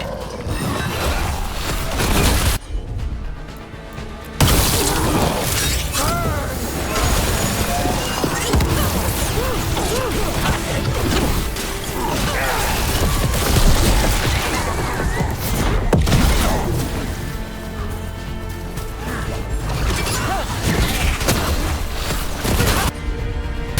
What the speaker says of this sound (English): Explosion from the other side.